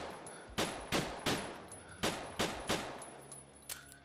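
Steady single gunshots in the VR game Drunk or Dead 2, about eight sharp, evenly spaced cracks over a faint background, each with a short decay.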